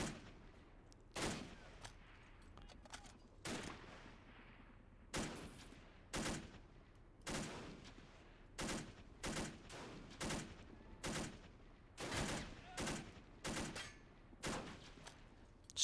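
A Browning Automatic Rifle rattles off a dozen or so short, controlled bursts in a game battle, each a sharp, loud crack of rapid shots separated by brief pauses, with no talking.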